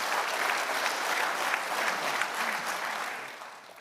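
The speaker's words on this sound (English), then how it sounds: "Let's give those three a big round of applause." Dense audience applause at an annual company conference for vitamin and mineral dealers, a sustained wash of clapping at moderate level that thins slightly toward the end.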